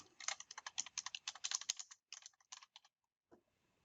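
Rapid typing on a computer keyboard while entering a file name, a steady burst of close, crisp key clicks for about two seconds, then a few scattered keystrokes and a final tap, with no talking.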